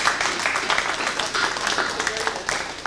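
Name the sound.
applause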